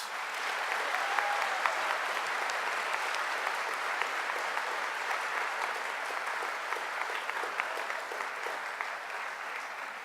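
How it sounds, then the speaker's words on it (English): An audience claps steadily for the whole stretch, a dense, even patter of applause with no voices over it. "Let's give them all a round of applause, please."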